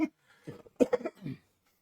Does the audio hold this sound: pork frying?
no